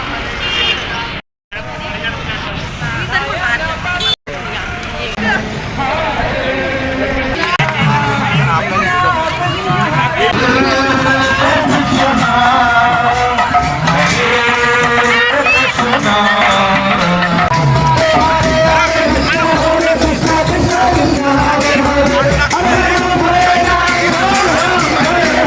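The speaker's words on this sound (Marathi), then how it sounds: "बघा किती गर्दी आहे." Large crowd of pilgrims at Chhota Pandharpur: a dense, steady babble of many voices and movement with passing traffic, continuous and fairly loud throughout, with a couple of brief dropouts near the start.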